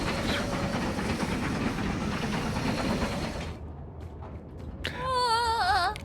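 A train in a video game rolls past with loud, dense rumbling and rattling clatter that fades out after about three and a half seconds, followed by quieter noises and then a warbling, whistle-like tone near the end.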